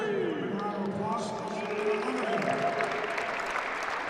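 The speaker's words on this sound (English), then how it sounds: "Once again, a round of applause." An audience at an indoor archery nationals professional shoot-off applauds in a steady, even patter, with a voice talking over the clapping.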